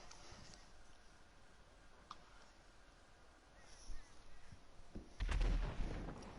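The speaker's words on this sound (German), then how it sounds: "Alter, einfach eine Explosion" In GTA Online, a deep, booming explosion bursts out near the end after quiet low rumbling, with a couple of faint thuds earlier.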